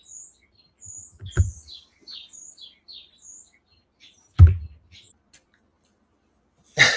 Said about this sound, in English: if you guys hear these birds going crazy